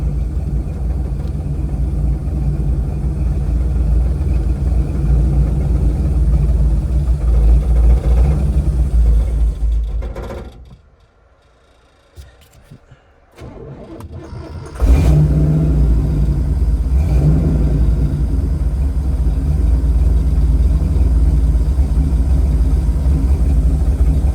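A 1969 Buick Special Deluxe engine rumbles loudly at a rough idle, cuts out into near silence for a few seconds, then restarts and settles back into a steady, heavy idle with slight revving; close, no talk.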